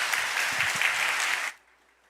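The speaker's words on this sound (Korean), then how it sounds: "우리 목사님 힘차게 환영의 박수로 맞이하겠습니다" A church congregation at a Korean Presbyterian Sunday worship service in Detroit applauds to welcome the pastor, with a loud, dense burst of clapping that cuts off abruptly.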